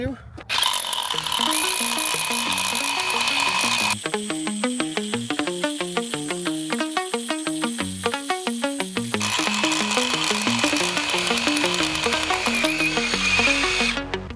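ProCraft HD 20A cordless rotary hammer drilling into concrete with an 18 mm bit, a loud continuous rapid hammering rattle close by, with the motor pitch shifting partway through.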